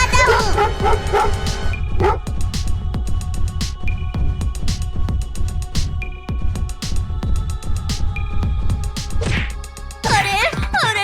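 Cartoon dog yips and bow-wows from a Hindi comedy cartoon, mixed with whacks and sound effects, loud and busy throughout with animated voices around it.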